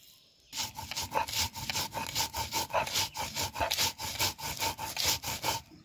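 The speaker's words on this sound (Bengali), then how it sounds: "যে শুকনো লঙ্কা, রসুন, জিরে একসঙ্গে ভেজে নিয়েছি, বেটে নিব" Dried chili, garlic and cumin, roasted together, being ground by hand on a stone grinding slab, giving a steady rhythmic rubbing and scraping that repeats in close, even strokes with no talking.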